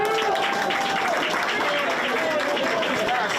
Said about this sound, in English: these students are starting out this new week on a positive note with a round of applause